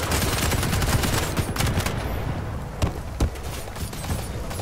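Loud, sustained weapon fire from the 2017 Quake shooter in co-op play, with rapid bursts of shots and a couple of sharper blasts, continuous and close throughout.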